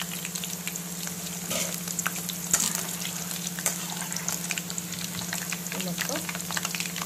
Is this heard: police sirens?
no